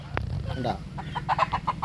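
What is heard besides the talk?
chickens clucking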